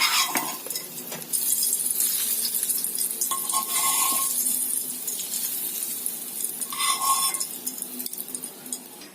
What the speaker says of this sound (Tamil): இப்ப சட்னிக்கு தாளிப்பு எடுத்து கொட்டிடலாம்.